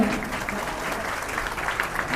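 Applause from an audience at a devotional Dasa sahitya program during a panchanga distribution, a dense sustained clapping that fills the short moment without pause.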